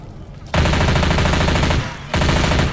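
A chrome shotgun in Left 4 Dead 2 fires in loud, dense bursts, two sustained blasts of gunfire separated by a short dip.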